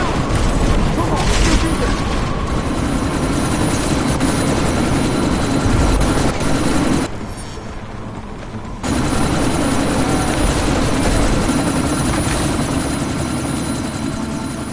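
Helicopter in the video game Deus Ex Mankind Divided during a sandstorm, a loud steady rotor roar with rumbling booms and mechanical noise, briefly dropping out before returning. Speech is mixed in.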